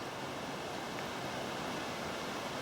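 Forty Foot Falls in Southern Highlands woodland, swollen with water, gives a steady broadband roar with no pauses and no voices.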